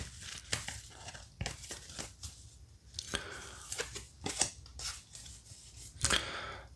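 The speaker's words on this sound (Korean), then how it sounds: "마지막 조언 카드 한 장을 더 뽑으면서" Tarot cards are drawn and handled from a deck, giving sharp snapping flicks and soft papery shuffles in an irregular series, close and fairly crisp with no talking.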